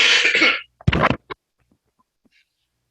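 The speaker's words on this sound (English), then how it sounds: "Sorry for the cough." A person on a webinar call coughs twice in quick bursts, close to the microphone, followed by near silence.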